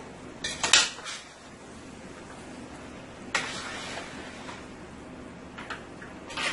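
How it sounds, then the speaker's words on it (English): Beef pieces being tossed in a pot with masala for a beef curry, heard as a few clattering metal clanks and utensil knocks against the pot amid quiet background hiss. "I am going to add my beef to my pot here. And I am going to give this a toss."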